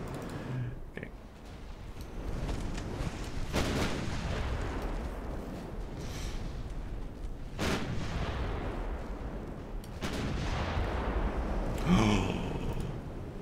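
The main guns of a French dreadnought fire in a naval battle game, with heavy booming salvos every few seconds over a continuous rumbling background and a little talk.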